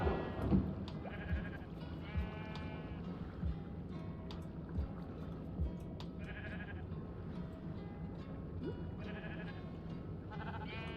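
Sheep in Minecraft bleat repeatedly at low volume, several short wavering calls spread over a steady quiet background with no talking.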